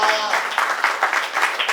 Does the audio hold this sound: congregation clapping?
yes